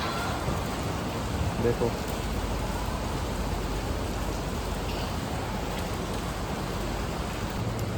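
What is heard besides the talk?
rain falling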